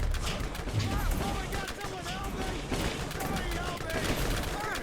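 Rapid automatic weapon fire from a Borderlands game with the Ultimate Loot Mod, a dense continuous burst of overlapping shots lasting the whole stretch at steady loudness.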